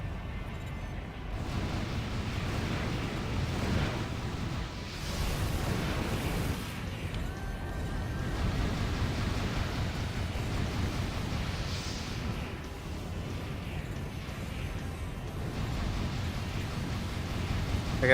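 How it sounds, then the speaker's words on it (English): Missiles launching in Armored Core: For Answer fill the scene with a continuous, loud roar of overlapping bursts and booms that runs the whole stretch with no quiet gaps. "Look at all these missiles go straight up."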